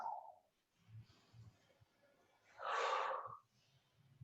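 Deep breathing during a self-massage exercise, with a soft breath at the start and one loud, long airy exhale in the middle, close and quiet, with faint soft movement sounds between breaths.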